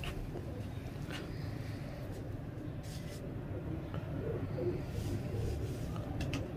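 A pair of Teddy pigeons coos with soft, low, repeated rolling coos close by, set over a steady low background hum.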